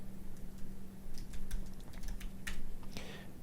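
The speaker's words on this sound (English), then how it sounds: "Let's go ahead and type in make lint." Clattering keystrokes on a computer keyboard typing out a short terminal command, a loose burst of taps with brief pauses, close and fairly quiet over a low steady hum.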